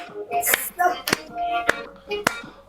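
A worship congregation claps at a slow, even pace, four sharp claps spaced about half a second apart, with voices and singing between the claps.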